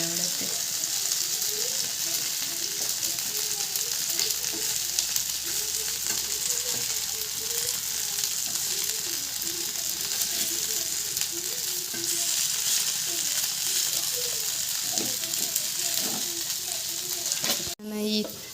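Pieces of village-style patrode frying in a pan give off a steady, close sizzle, with light scraping and clicking from stirring throughout and a brief louder knock near the end.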